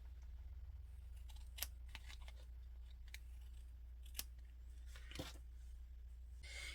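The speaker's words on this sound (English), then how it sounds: "Then trim that piece off to make it a twin sheet again." Scissors trim a small piece off a paper craft sheet, making a few sharp, quiet snips spread across the stretch over a low steady hum, with no talking.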